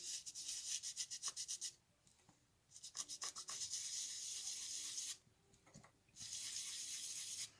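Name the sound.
rubbing ink onto card edges with a blending tool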